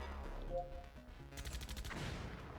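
Rapid burst of machine gun fire in the PS4 game METAL MAX Xeno Reborn, a dense rattling volley starting midway and running to the end over game sounds.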